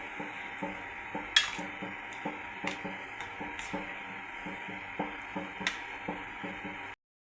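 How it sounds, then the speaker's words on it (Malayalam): Sambar being stirred in a metal pot, with a spoon scraping and clinking against the sides in a steady rhythm of soft knocks and occasional sharper taps over a faint simmer, close up and without talk. "നല്ലപോലെ നമ്മൾ ഇളക്കുക."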